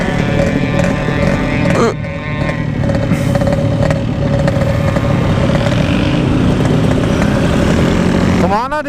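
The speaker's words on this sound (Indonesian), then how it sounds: "Gila, motor lu kenceng banget." A Yamaha RX King two-stroke motorcycle with a torn oil hose ridden flat out, its engine screaming loudly and continuously close by, with pitch sweeps as gears shift and voices talking over it.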